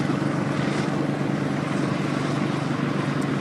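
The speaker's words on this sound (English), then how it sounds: "Look at the helicopters there." Steady rotor drone of a helicopter overhead, continuous and fairly loud with a low thrumming pulse, no voices.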